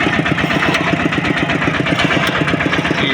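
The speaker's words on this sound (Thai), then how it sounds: "ขี่รถไถไปซะก่อน" A farm tractor engine runs steadily at close range on a long drive to a market in Laos, a loud, even mechanical throb with rapid regular pulsing and no voices over it.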